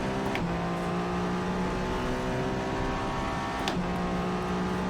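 The URD Moyoda 2021 Le Mans hypercar in Assetto Corsa drones loudly at high revs through a flying lap, with a sustained engine howl that rises steadily and is broken by two sharp gear shifts.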